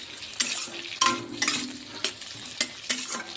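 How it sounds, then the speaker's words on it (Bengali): Capsicum and other vegetables stir-fried for chowmein in a pan, a string of sharp spatula scrapes and knocks over a soft sizzle, close and loud with no talking. "এবার আমি দিয়ে দেবো সিমলাগুলো।"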